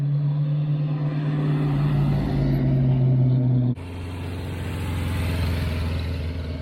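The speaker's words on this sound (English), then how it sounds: "A Mustang on the move." A Ford Mustang passes at a retro car event in Rouen. Its engine drones loudly with a falling pitch, cuts off abruptly and then gives way to a lower, steadier motor rumble.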